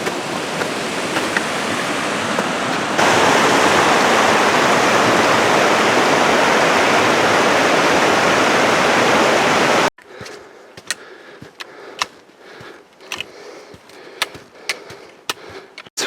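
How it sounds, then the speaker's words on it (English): A snowmelt mountain creek rushes past a trail crossing on Mt. Hood's Timberline Trail in snow, a loud, steady roar lasting about ten seconds before giving way to quieter, sparser sounds with scattered sharp clicks. "Okay, we're at our first creek crossing here."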